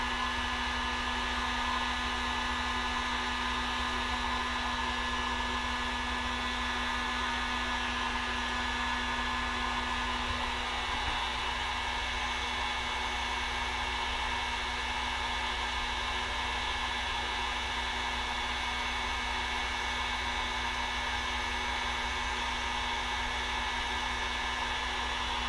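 A heat tool blows hot air onto fishing bait material in a steady, unbroken rushing hiss with a low motor hum, close and even for the whole stretch, with no talking.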